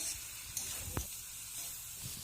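Jackfruit frying in an uncovered pan after steaming under a lid: a soft, continuous sizzle close by, with a brief knock or stir of a utensil and a couple of faint scrapes over the steady frying hiss.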